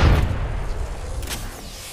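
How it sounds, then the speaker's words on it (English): A deep, booming gunshot or blast opens, then rumbles and fades into a low, continuous roar with a faint crack near the end, all in Apex Legends and with no voices. "I just shot both of them"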